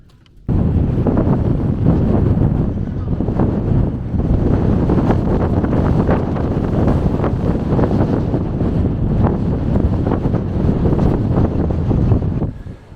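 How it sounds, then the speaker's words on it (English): Strong wind roars across the microphone outdoors during a run, a loud, continuous buffeting rumble that starts abruptly and persists with gusty fluctuations, no voices heard. "It's really windy, so going against the wind is tough."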